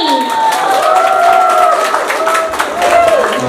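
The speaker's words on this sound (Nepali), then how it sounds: "ज्वाला राई आउँदै हुनुहुन्छ, उहाँको लागि एकचोटि जोरदार ताली" A crowd claps and cheers for Jwala Rai as he arrives at an honour ceremony, steady applause filling the whole stretch with a tonal sound running underneath.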